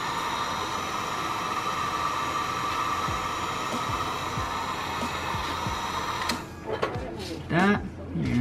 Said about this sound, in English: And then get the heat gun real quick.